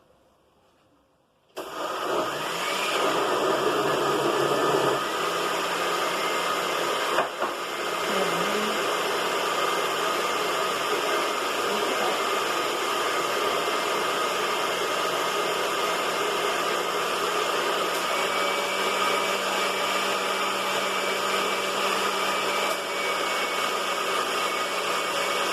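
A kitchen blender runs on its puree setting, a loud, steady whirring roar that starts abruptly and continues unbroken to the end, with no voices.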